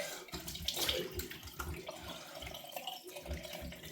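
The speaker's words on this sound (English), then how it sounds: "I'm going to rinse the face." Cold water splashing at a bathroom sink as a face is rinsed after a wet shave, a steady close running-tap wash with irregular splashes throughout.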